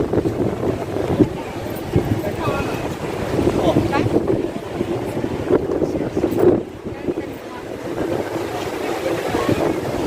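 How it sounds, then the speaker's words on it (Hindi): Strong wind buffets the microphone over crashing ocean waves at Chandrabhaga beach, a continuous loud roar with surging swells, and a voice speaking faintly beneath it. "क्या लहरें हैं, आप लोग भी देखिए।"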